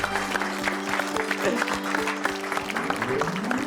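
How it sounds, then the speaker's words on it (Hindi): A studio audience at an Indian TV game show claps steadily to welcome a guest, with dense, even applause running under sustained background music. "जोरदार स्वागत कीजिए बुआ जी का तालियों के साथ"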